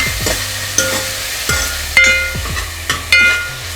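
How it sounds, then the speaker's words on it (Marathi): Ginger garlic paste sautés with onions in a pan, making a steady sizzle broken by a series of sharp metallic clinks and scrapes from a spoon, close and without speech. "आता यात आपण ॲड करूया आलं लसूण पेस्ट 2 चम्मच, मिक्स करूया आणि 2 मिनिटं परतून घेऊया"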